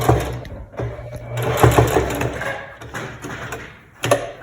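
A sewing machine runs in close, fast rhythmic bursts, stitching a seam on a small zippered fabric pouch and pausing briefly between runs.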